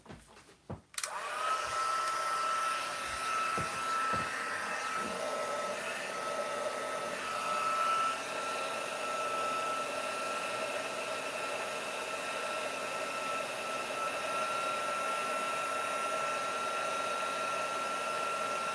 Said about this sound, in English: I love heat embossing.